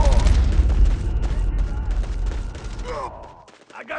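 Shooter video game gunfire crackles in dense, rapid bursts over heavy low-end rumble, loud and close, then thins out toward the end, with voices talking over the action.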